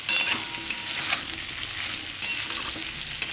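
Ginger fries with potatoes in a pan while being stirred, giving a steady crackling sizzle with scraping stir strokes, close and alone throughout.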